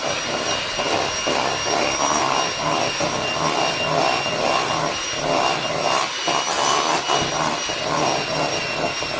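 Cake batter for a Haitian cake with cherries is whisked with a steady, loud, close whirring drone that pulses slightly as the beaters move, and no one speaks.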